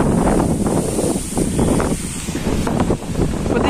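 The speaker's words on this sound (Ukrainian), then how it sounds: "Дуже сильний вітер." Very strong wind roars steadily through an open park in Volodarka, Kyiv region, in mid-November, buffeting the microphone with loud, continuous gusting and no voices.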